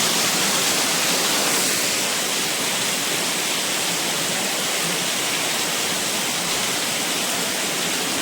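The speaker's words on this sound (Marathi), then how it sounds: "जोरदार पाऊस आहे खूप जोरदार" A steady downpour drums without a break on a Mumbai balcony at night, a thick, loud hiss of rainfall that holds constant throughout.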